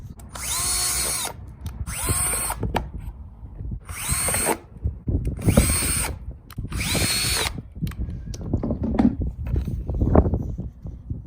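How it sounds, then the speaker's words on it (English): A power drill whines through several short bursts in a row, spinning up loud and close as it bores holes in plywood, with clattering handling noise between. "I've got the holes marked out on here, and now we're going to drill them out."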